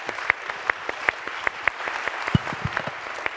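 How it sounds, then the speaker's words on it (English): Audience applause closing the plenary session of the EUSBSR Annual Forum, a steady patter of many hands with a few sharper, closer claps standing out above the crowd. "Round of applause."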